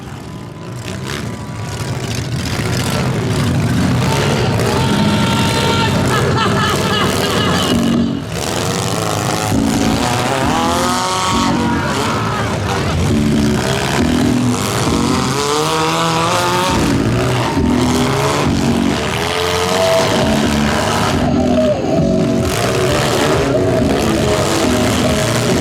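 Junk cars roar and rev through a demolition derby final at Schomberg, with several engines snarling and surging together close by, loud and continuous, and sudden throttle bursts rising and falling over the pack.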